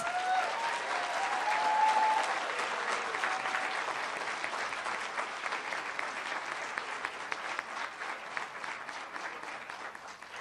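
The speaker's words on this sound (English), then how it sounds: "Can we give them another round of applause?" A large audience at a University of Wyoming spring 2015 graduation ceremony claps for the graduating class, a sustained, fairly even roar of hands that swells early and then carries on steadily for about ten seconds.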